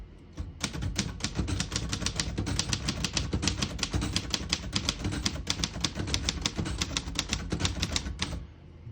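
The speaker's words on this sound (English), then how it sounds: "Beautiful typing machine." Rapid, even keystrokes clatter on a 1948 Royal Quiet De Luxe manual portable typewriter, loud and close, continuing steadily for several seconds before stopping.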